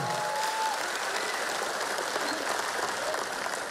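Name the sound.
crowd applause for Ganjar and Mahfud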